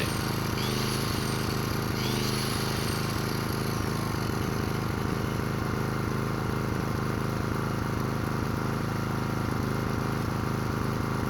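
A repaired Makita portable generator running steadily close by, its small engine giving a loud, constant droning rattle with a fast, even pulse and no voices.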